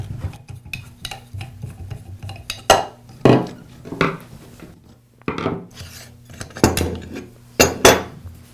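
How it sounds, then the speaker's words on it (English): Metal parts clink, scrape and rattle as the side handle and guard are taken off a Makita angle grinder on a workbench. Several sharp knocks come in irregular bursts between quieter rubbing, close by, with no talking. "I'll begin by removing the side handle and the guard."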